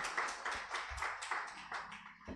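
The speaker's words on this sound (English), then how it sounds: "let's give the Secretariat another hand clap" Sparse hand clapping from a small audience at an academic lecture event, a handful of distinct claps in an uneven rhythm, fairly quiet and heard alone.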